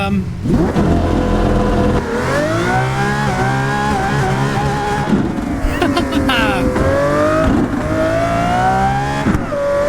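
A Lamborghini Aventador SVJ V12 engine revs hard on a track, rising and falling through gear changes with loud, continuous howling close by, while someone talks over the roar.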